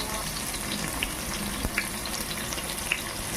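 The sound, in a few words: onions frying in a pressure cooker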